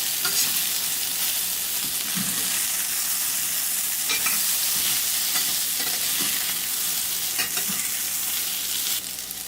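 Soya chunks roasting lightly in a shallow layer of oil in an Indian home kitchen, with a steady close sizzle and frying hiss and occasional scrapes and stirs of a spatula against the pan, continuing evenly throughout with no voices.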